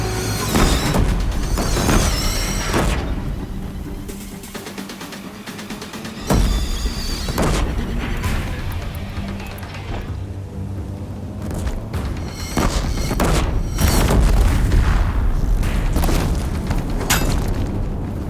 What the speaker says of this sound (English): Deathbringers keep firing, this bridge will go.